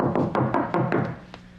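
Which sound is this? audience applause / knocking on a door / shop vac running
knocking on a door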